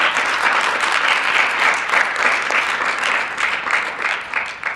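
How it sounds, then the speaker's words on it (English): A classroom audience at a Greek community event claps for student presenters; a loud, steady round of applause with a slight ebb and flow, no voices over it. "we will give a round of applause for all our student presenters"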